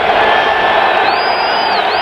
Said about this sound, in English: The crowd really in it.